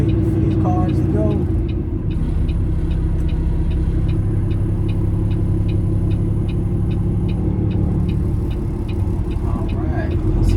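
An 18-speed truck engine idles in first gear with a steady, loud rumble while the turn signal ticks rhythmically over it, and a voice talks at moments.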